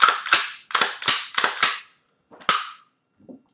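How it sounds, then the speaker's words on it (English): Sharp metallic clicks and clacks from a semi-automatic pistol: a magazine release, a magazine pushed home and the slide racked, landing as a quick run of close, loud mechanical snaps followed by a few softer handling clicks. "The mag release, all right, and the inserting of a magazine, and of course the wrapping of the slide"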